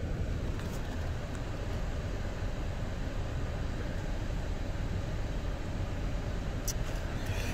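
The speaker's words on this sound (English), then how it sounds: "start it up, show you the odometer, let you listen to it run" A 2001 Ford F150 SuperCab XLT with over 211,000 miles idles cold outside, a low, steady engine drone at moderate distance with no talk.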